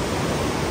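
A mountain stream on a steep trekking trail rushes continuously, a broad, even roar of white water close by with no other sounds.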